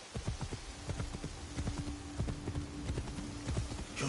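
Horse hooves clip-clopping in the Assassin's Creed Shadows video game, a fast steady rhythm of hoofbeats with a soft rain-like hiss and a faint tonal hum behind.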